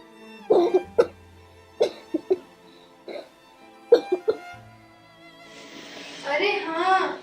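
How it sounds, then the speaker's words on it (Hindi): A person coughs repeatedly in short, loud bursts, several separate coughs spaced a second or so apart, ending with a brief stretch of muffled voice or breathy noise. "तो खांसी है और तू मुंह पर हाथ भी नहीं रखता।"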